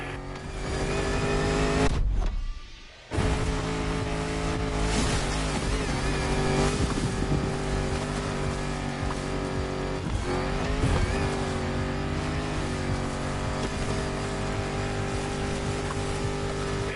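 Vintage Land Rover Defender with a 400-horsepower engine under a 70-year-old bonnet in The Crew Motorfest, a loud continuous drone that dips briefly near the start before steady revving resumes.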